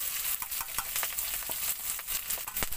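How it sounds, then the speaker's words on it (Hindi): Chopped onion, garlic and green chili sizzling in hot oil with cumin seeds, the cooking done in an Indian truck: a loud, continuous crackling fry with small spattering pops and stirring, with no voices. "तेल डालने के बाद थोड़ा जीरा डाल देंगे फोरन के लिए और उसके बाद जो अपना प्याज और मिर्चा काट के रखे हैं लहसुन इसको डालेंगे"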